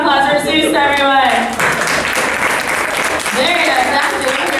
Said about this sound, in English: Great job, round of applause for Zeus,